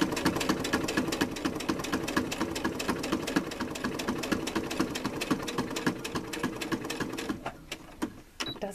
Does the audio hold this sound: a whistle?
no